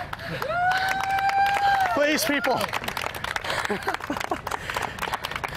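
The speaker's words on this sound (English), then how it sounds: "Thank you for the uh, polite applause at the end." A small group gives scattered, polite clapping at a Lake Dallas High School fire academy training session. A whistle-like tone and voices come first, then the short, light applause follows.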